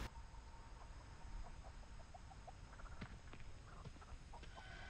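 Clucking chicken in The Texas Chainsaw Massacre video game, a run of short clucks over a constant ambient game bed, near and moderate in level, with no voices.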